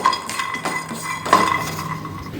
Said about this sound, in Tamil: பச்சை வேர்க்கடலை கொஞ்சம் வறுப்பட்டு வரட்டும்